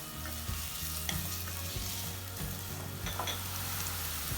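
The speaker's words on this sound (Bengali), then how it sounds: "পেঁয়াজটা কিছুক্ষণ ভেজে নিব" Chopped onions fry and sizzle in a pan, a constant dense crackle with a few stirring scrapes, close and steady with no talking.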